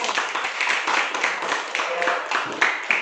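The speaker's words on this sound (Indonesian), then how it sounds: "Berikan aplaus untuk kelompok Gorontalo." A classroom group claps for the Gorontalo group at a teacher performance assessment in Indonesia, a short stretch of dense, close hand clapping with no voices over it.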